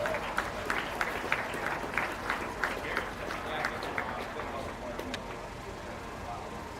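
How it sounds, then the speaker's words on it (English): Scattered applause from a small audience at a county fair beef show, distinct individual claps in a light, uneven patter that thins out and dies away over the last couple of seconds, with some background murmur. "Let's give these young people a big round of applause,"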